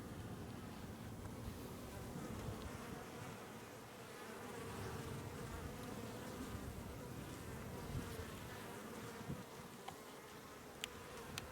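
Honeybees buzz around a hive in spring, a steady dense hum from many insects close by that swells slightly and never stops.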